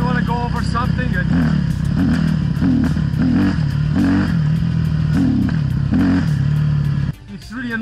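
A dirt bike engine revving hard as the throttle is snapped open, a loud raspy mid-pitched drone rising and falling in short repeated bursts before cutting out abruptly near the end.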